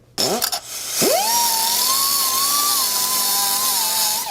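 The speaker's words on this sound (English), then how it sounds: "I'm just gonna go right to cutting the manifold bolts off" A power tool spins up with a sharp whine, then holds a steady, loud cutting tone as it slices through old rusty exhaust manifold bolts on an International 1110, after a few short clanks at the start.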